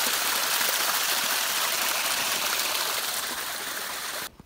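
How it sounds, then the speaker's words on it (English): Water spills steadily over small falls in a stream along the Pacific Crest Trail, a bright, continuous rushing splash close by, ending abruptly. "Pretty little waterfalls."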